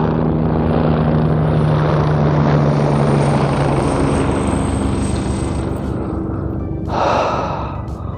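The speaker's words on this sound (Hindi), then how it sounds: "हेलीकॉप्टर क्रॉस हो रही है।" Helicopter passing over the Kedarnath trek route, a loud steady rotor and engine drone with a deep low throb that holds for about eight seconds and swells briefly near the end.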